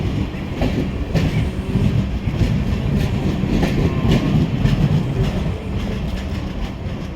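A train rumbles and clatters steadily nearby at Kudal railway station, its wheels clicking rhythmically over the rails with a constant loud roar.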